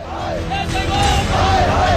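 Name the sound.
striking MCD workers shouting in protest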